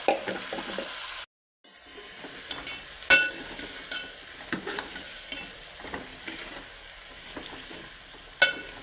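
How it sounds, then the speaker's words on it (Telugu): Ridge gourd, tomato and green chillies sizzle in a pan, a steady moderate hiss broken by scattered clinks and scrapes of a spoon stirring, one brief silent gap, no talk. "ఇప్పుడు బీరకాయ టమాటా పచ్చిమిర్చి అన్నీ వేయాలన్నమాట"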